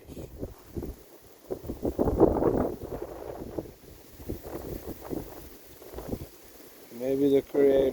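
Wind gusting across a set of ponds on a cold, stormy day, a steady buffeting rush that rises and falls in strength and blows hard against the microphone, with a brief spoken voice near the end.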